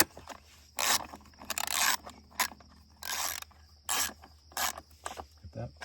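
A 10mm bolt being tightened on the battery strap of a Honda CRF250F, with short ratcheting bursts in an irregular rhythm, each lasting under a second, close up with pauses between.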